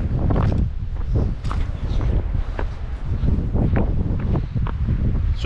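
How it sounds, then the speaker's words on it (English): Steady, loud wind buffeting the microphone on the summit of Mt Kearsarge, a continuous low roar with gusty swells and rustling throughout. "Super windy."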